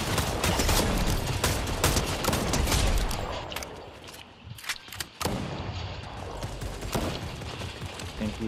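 Gunfire in the video game Fortnite, rapid bursts of sharp shots in quick succession with a brief lull midway, fairly loud and close, no talk over it.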